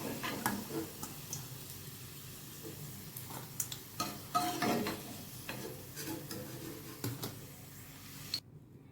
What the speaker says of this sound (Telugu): కాకరకాయ ముక్కలు వేసినప్పుడు ఇట్లా సౌండ్ రావాలి అలా సౌండ్ వచ్చినప్పుడు కాకరకాయలు ఫ్రై అయినట్టుగా తెలుస్తుంది